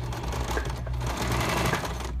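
Nearby sewing machine topstitching a seam, a continuous dense whirring hum with a rapid needle rhythm throughout, fairly loud and with no voices.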